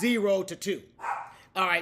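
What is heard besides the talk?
dog barking in the background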